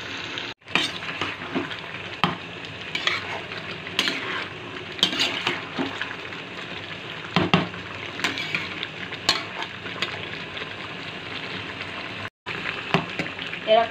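Mutton for doi mutton sautés in a pan with a steady sizzle, while a utensil repeatedly scrapes and clanks against the metal as the meat is stirred close by.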